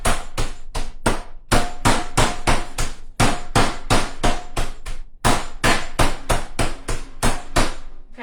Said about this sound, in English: we tenderized this chicken, and now it's all the same size